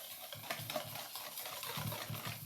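Brown sugar and a well-beaten egg stirred together in a mixing bowl for banana bread, a soft, steady scraping and sloshing that continues for a couple of seconds at close range with no talk.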